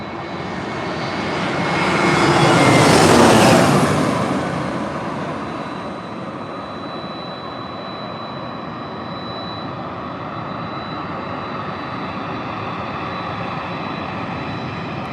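A fixed-wing airplane landing at San Diego airport, its engine roar swelling loud as it passes close, then settling into a steady, fainter rumble that persists to the end.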